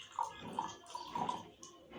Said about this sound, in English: so let us add our water.